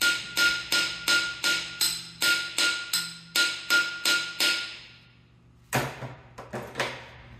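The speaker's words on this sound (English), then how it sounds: "let's try my hammer technique" Repeated metal hammer blows on Jaguar E-Type engine parts during a workshop engine teardown. About a dozen sharp, evenly spaced ringing strikes come first, then a pause, then a few louder irregular knocks, all close to the mic.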